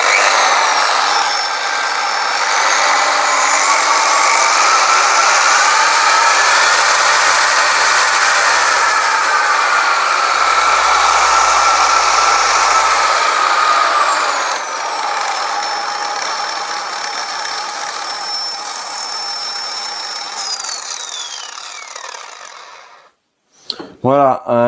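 Clover DA15 V2 dual-action polisher running steadily after its soft start, a loud, even whine with a faint rising pitch, holding for about twenty seconds before winding down and cutting off.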